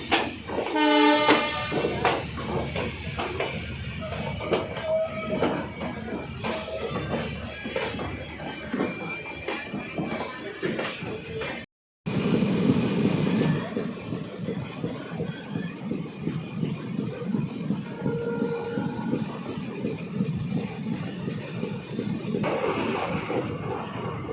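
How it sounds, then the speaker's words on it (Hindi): Ambala–Sri Ganganagar Intercity Express (14525) departing Ambala Cantt railway station: a horn sounds early, then steady rumbling wagons and clacking wheels roll on continuously with a brief cut midway, no talk. "Departure from Ambala cantt railway station."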